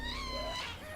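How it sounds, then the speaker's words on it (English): A cave guardian in a Minecraft modpack gives a short, eerie wavering moan that slides in pitch. It is faint and lasts about a second over a low background hum. "That is the sound of a cave guardian."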